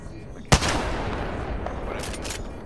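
Gunfire in the battle royale game Apex Legends: one sharp, loud shot lands early, followed by a sustained rumble and a few fainter bursts later on, with no talking.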